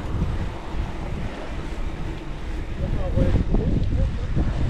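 Heavy headwind gusts batter the microphone with a continuous low roar during a road cycling ride, while voices speak faintly partway through.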